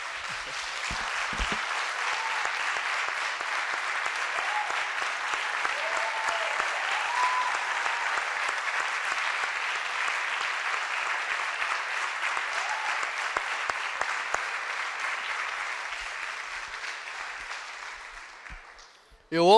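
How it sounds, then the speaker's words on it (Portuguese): Church congregation breaks into loud, sustained applause that fills the room evenly for nearly twenty seconds before stopping abruptly. "Podemos aplaudir o nosso Deus?"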